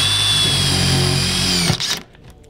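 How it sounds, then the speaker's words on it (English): A Milwaukee M12 FUEL Surge impact driver in self-tapping screw mode drives a self-tapping screw, a loud continuous buzzing hammer whine that runs steadily and then cuts off abruptly near the end. "One that we added here is our self-tapping screw mode."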